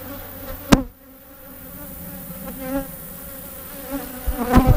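A low, steady buzz of honey bees hums throughout, with a couple of sharp knocks and rustles near the start and the end.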